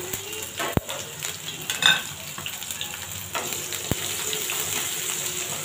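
Onions and green chilies frying in hot oil while stuffed tinda is cooked, giving a steady, fairly faint sizzle with a few sharp clinks of a utensil against the pan and no talking.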